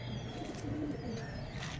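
Andhra pigeons kept at a home loft coo softly and intermittently in a low murmur, faint against a steady background hum, with no voices heard.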